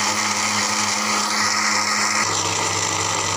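An electric blender whirs loudly and steadily while mixing a banana and apple milkshake, its motor pitch dropping partway through, close and continuous with no voices.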